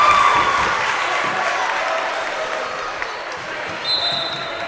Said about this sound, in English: especially considering how loud this Edgar crowd is. I mean, just listen to that fan base.